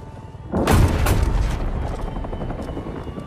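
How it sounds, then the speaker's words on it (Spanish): Helicopter downed in a Call of Duty Warzone cutscene: a sudden loud blast and crashing roar breaks in after a quiet start, then a dense rumbling, crackling wash of wreckage and gunfire-like noise that slowly fades. "Helicóptero de Alcatala en la mira. Derríbalo."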